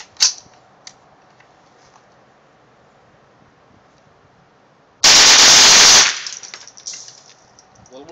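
A .22lr M&P 15-22 rifle with a slide fire stock fires a dense, rapid one-second burst of loud cracks after a single earlier shot, the echo fading away afterward.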